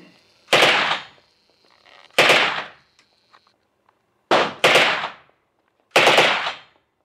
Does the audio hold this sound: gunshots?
yes